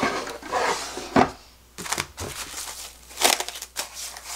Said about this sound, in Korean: 이렇게 랩을 씌워서요